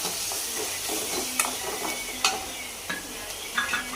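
Tomatoes sautéing in a pan for white sauce pasta, a quiet steady sizzle broken by a few sharp utensil scrapes and taps as they are stirred, heard up close without speech.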